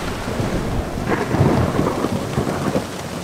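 A wilderness thunderstorm with heavy rain and wind, low rumbling thunder swelling under a dense hiss of rain, loud and continuous.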